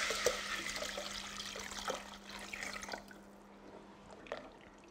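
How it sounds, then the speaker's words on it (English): Chicken broth is poured into cooked, bubbling flour for cream of mushroom soup, giving a liquid splash and trickle with a few sharp drips and clinks, fading toward the end; a faint low hum sits underneath. "we'll go ahead and add our broth"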